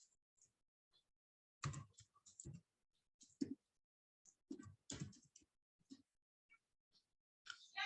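Computer keyboard typing in irregular bursts of clicks and taps, close and very quiet, with pauses between runs of keystrokes and no talk.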